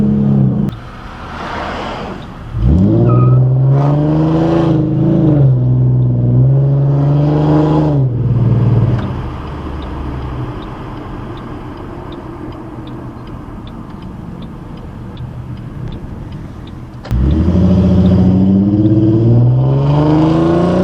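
A Ford Mustang 4.0 V6 with an aftermarket exhaust revs hard several times, rising and holding in loud, raspy surges, drops to a ticking idle, then revs again near the end.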